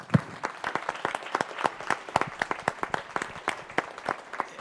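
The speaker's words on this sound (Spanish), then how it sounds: "Un aplauso." An audience at a book-award presentation bursts into sustained applause, a dense patter of many hands clapping steadily at moderate distance for several seconds.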